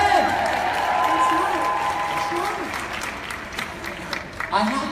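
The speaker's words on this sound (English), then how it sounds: "Let's give a round of applause" Guests at a home party clap in a burst of applause mixed with voices and cheering, steady at first, then easing before a brief renewed flurry.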